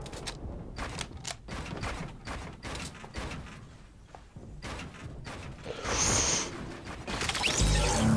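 Rapid bursts of SMG gunfire in the video game Fortnite during a trio tournament final, repeated sharp clicky shots spread across the clip with a louder dense stretch near the end, no talking.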